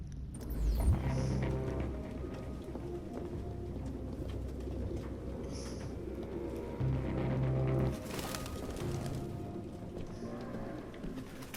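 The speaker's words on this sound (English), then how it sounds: "No human could live with all these fucking pigeons." Pigeons cooing inside an apartment in the video game Detroit: Become Human, with soft low coos repeating under a steady ambient background.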